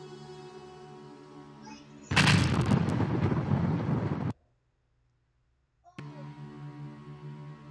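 Nuclear bomb explosion playing from a video: a sudden loud roaring blast that rumbles for about two seconds, cuts to silence, then low background sound returns; no talking over it.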